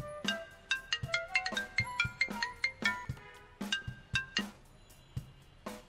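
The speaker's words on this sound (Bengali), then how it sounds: "ভাইয়া আপনার ফোন আসছে।" A phone rings with a melodic ringtone of bright, chiming tones in a repeating pattern, fairly close and clear, with no one talking over it.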